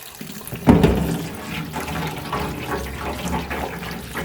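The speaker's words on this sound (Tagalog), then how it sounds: "Paliguan ng tubig na galing sa gripo." Running tap water splashes over food in a strainer, a sudden gush near the start settling into a steady close rinse.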